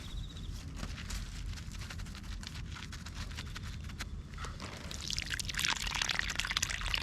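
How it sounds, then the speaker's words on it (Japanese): Water poured from a container into a freshly dug planting hole in garden soil while transplanting napa cabbage seedlings, a steady close trickle and splash that grows louder and brighter toward the end. "その穴に水を入れて"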